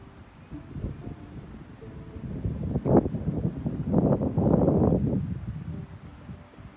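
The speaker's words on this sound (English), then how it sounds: "It's so windy right now." Gusty wind buffets a microphone outdoors, rising into stronger rumbling gusts midway and easing off again, with no voices.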